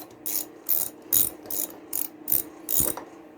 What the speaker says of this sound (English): Let's get rid of the spark plug. I think it's 3/4. Nope, 13/16. I've got my magnetic spark plug socket